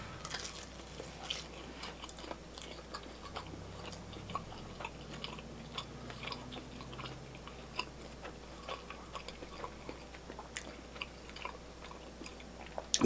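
Someone chews a bite of Little Caesars pretzel crust pepperoni pizza with a crunchy, crispy dough: soft, close, repeated crunching and squishing bites carry on steadily at low volume.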